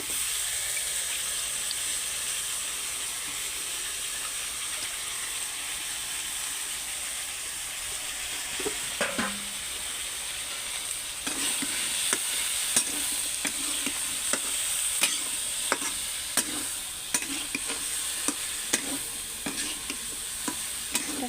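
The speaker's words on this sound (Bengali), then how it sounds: "কচু দিয়ে অবশ্যই খুব ভালোভাবে লেড়ে চেড়ে নিতে হবে" Pointed gourd and taro frying in a pan, with steady sizzling throughout and a run of regular spatula scrapes and stirring knocks in the second half.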